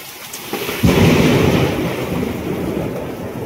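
Thunder crashes during a heavy evening downpour over farm fields at harvest time: steady rain hiss, then a loud, close clap just under a second in that rolls into a deep, sustained rumble lasting to the end, with no talking.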